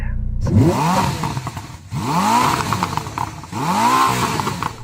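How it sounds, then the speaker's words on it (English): A Ferrari SF90's V8 engine roars through three sharp revs, each climbing in pitch then dropping back, loud and close, with a brief dip between bursts. "Nick, let's have a listen to your V8."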